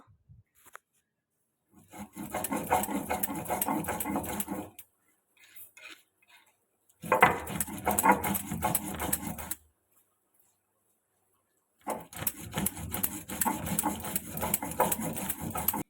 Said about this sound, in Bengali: তলায় বসে শিলনোড়ায় বান্না করছি বাটনা বাড়ছি